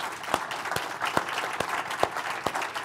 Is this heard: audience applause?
yes